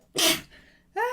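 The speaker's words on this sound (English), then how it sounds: "And I'm about to sneeze." A single loud, close sneeze bursts out with a sharp breathy blast, followed by a softer exhale and then a brief voiced sound right after.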